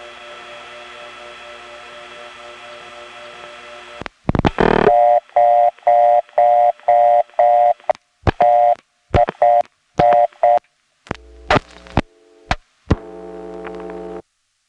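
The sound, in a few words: telephone dialing on a step-by-step exchange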